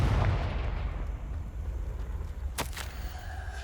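A Confringo blasting spell in Hogwarts Legacy erupts as a deep boom that rumbles away, followed by a sharp, crackling burst partway through. Both are heard close and at moderate level.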